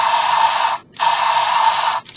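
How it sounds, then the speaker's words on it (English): Electronic plasma cannon effect from a Transformers Robots in Disguise Ultra Magnus toy, two loud sustained buzzing electronic bursts with a brief gap between them, then a short stutter at the end. "That sound is supposed to be this giant circular gun barrel going."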